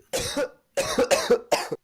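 A man coughs in a quick series of harsh bursts, one alone and then a rapid cluster of three, close to the microphone and loud with silence between.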